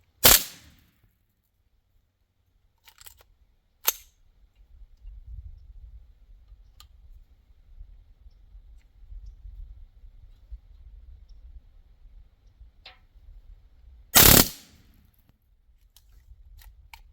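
Suppressed TX22 pistol rounds being fired, two sharp isolated cracks standing out several seconds apart, with faint mechanical clicks and a low rumble filling the quiet between them.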